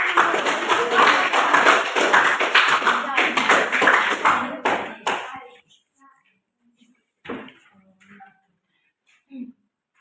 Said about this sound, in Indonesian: Marilah kita berikan tepuk